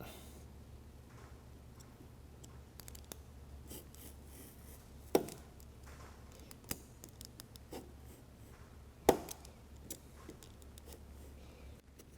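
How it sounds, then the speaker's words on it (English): A razor knife guided along a straight edge cuts and snaps out stake pocket pieces from a 2012 Ford F-150 truck bed, giving quiet scratchy scoring and a few sharp clicks over a low background hum. "we're going to use a straight edge and a razor knife and remove the pieces of the stakehold pocket"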